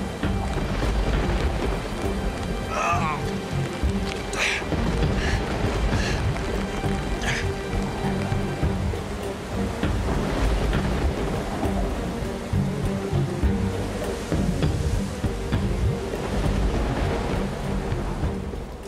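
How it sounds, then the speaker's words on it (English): A relentless thunderstorm with heavy rain beating down steadily on slippery ground, with rumbles of thunder and occasional sharper cracks throughout. "But the relentless storm and the slippery ground are taking their toll on Bruce"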